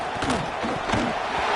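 Loud, sustained roar of a football stadium crowd on a third-and-long play, a dense wall of yelling and cheering with some speech mixed into the din.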